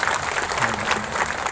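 A crowd claps steadily and densely throughout, a warm wash of applause at moderate volume.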